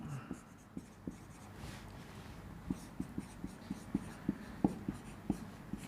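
A pen or marker writes on a board during a math lecture on partial derivatives, a close run of short scratchy taps and strokes in an irregular rhythm, no talk.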